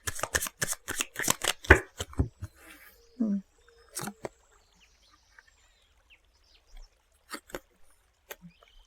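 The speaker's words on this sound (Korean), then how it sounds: "보조 카드를 한번 뽑아보도록 하겠습니다" Tarot cards being shuffled in a quick run of crisp riffling flicks, then a few separate card slides and taps with quiet gaps as cards are drawn.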